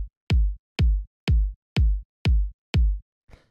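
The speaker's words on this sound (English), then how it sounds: "the first sound I have here is the kick" A techno kick drum sample hits six times in a steady even pulse, each a punchy, deep, booming thump with a sharp click at the start, ending with a faint short noise.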